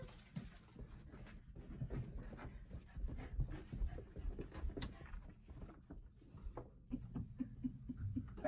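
A dog pants nearby before going out for a walk, quick soft breaths repeating over a quiet background, with a few faint whimpers and light pattering footsteps.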